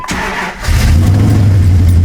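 A second-generation Dodge Ram 4x4 pickup engine cranks briefly, catches and settles into a steady, loud, close idle, heard alone.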